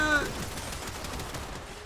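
Gunfire in the video game Warframe: a steady run of rapid, close shots in dense bursts, continuing for the whole moment with little pause.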